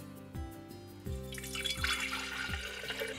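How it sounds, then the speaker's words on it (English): Lye from an AquaCure AC50 machine pours into a mason jar, a close liquid splash and trickle building after about a second and running steadily on, with a few faint knocks underneath. "we're gonna pour, this was the lye that was in the machine, we're gonna pour it back inside the mason jar"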